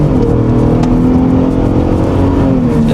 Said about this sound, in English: I do really like the sound of this truck when it's real low RPMs